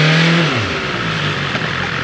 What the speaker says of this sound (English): Don't you just love the acceleration on this bike?